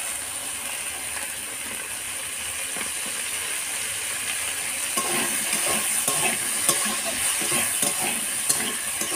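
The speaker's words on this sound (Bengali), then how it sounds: "এভাবে একটু ভেজে নেব।" Okra frying in oil in a pan, a continuous bright sizzle that grows busier and more crackly partway through, with light scraping, close and fairly loud.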